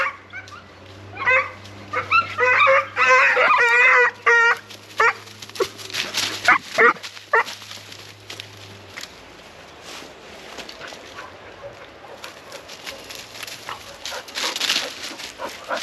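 Dogs whimper, yip and bark excitedly up close, then quieter sniffing and shuffling noises follow as they move around.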